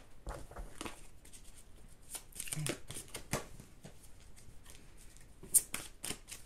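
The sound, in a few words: shuffling tarot cards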